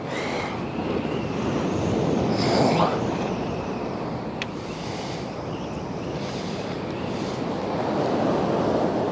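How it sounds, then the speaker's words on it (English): Steady wind gusting across an open North Sea beach at Withernsea while sea fishing, a constant broad roar with surf-like swells, loud and unbroken throughout with no talk. "That wind's starting to come in now a little bit."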